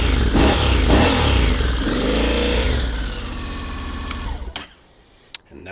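A Honda NC750X motorcycle in neutral revs its engine loudly up close, a sustained throaty roar that climbs and then falls away, ending in near quiet with a couple of brief clicks.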